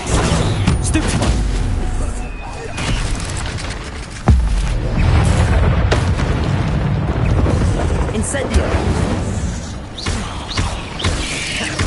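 Stupefy spell blasts in Hogwarts Legacy hit as repeated loud booms and sharp bursts, with one especially strong crack midway, in a constant roar of combat, while a voice talks over much of it.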